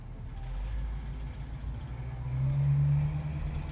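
A 1966 Ford Mustang's engine rumbles at low pitch while driving over bumps, swelling louder toward the end with a brief rising drone, no talking.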